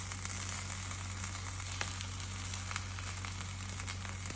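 Fish frying in a large pan, a steady dense sizzle with faint crackles and pops, close and continuous, no voices.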